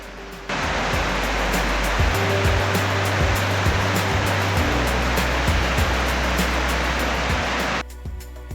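The Guarrizas river pours down a gorge with a steady, loud waterfall roar, broad and unbroken, with a low hum underneath for a few seconds and then a sudden cut.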